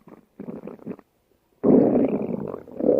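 Loud, low stomach growling from a hungry person, in two short gurgling bursts, a brief pause, then a long sustained rumble lasting over a second, heard close up with no talking.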